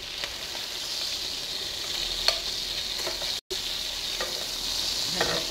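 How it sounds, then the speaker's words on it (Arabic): Chicken pieces frying in oil, a close, steady bright sizzle with a few scattered pops and a brief dropout partway through. "هانا هنا تحمر الدجاج"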